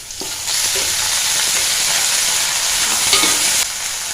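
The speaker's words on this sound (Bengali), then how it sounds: "এবার টমেটোটা দিয়ে দিচ্ছি।" Tomato frying in a pan, a loud steady sizzle that jumps up as it goes in, with a couple of stirring clinks near the end before it drops back to a softer hiss.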